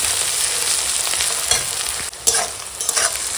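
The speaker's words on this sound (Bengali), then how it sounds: "এখন পেঁয়াজ কাঁচা লঙ্কা ফোড়নের সঙ্গে ভেজে নিচ্ছি" Onion and green chili frying with whole spices for a chicken curry, a steady loud sizzle with occasional stirring scrapes, close and continuous with no voices.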